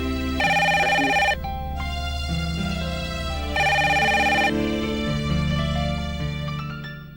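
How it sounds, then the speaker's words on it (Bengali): A telephone rings in two long electronic bursts with a pause between, loud and close, set against a continuous music bed in an indoor drama scene, with no talking. "ফোনটা ধরে আসি।"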